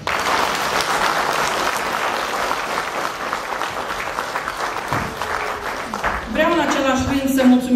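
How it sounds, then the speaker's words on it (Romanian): Sustained audience applause for brass bands at a festival in Soldanesti, a dense steady clapping from a hall crowd, with someone speaking near the end. "Fiindcă aplauzele dumneavoastră, cred eu, au o importanță foarte mare pentru cei care evoluează în scenă."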